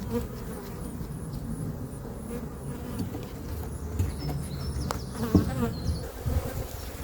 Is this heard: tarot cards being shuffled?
no